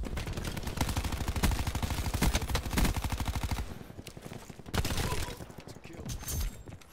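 Rapid hipfire from an automatic weapon in Black Ops 4, a dense close burst of loud rhythmic shots lasting several seconds, then a few scattered bursts and impacts.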